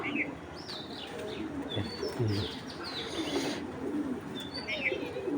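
Hurricane-breed pigeons coo softly in a loft amid busy ambient noise, with scattered chirps from other birds and a voice speaking in the background.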